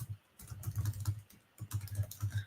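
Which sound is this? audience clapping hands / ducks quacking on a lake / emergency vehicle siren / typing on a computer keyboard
typing on a computer keyboard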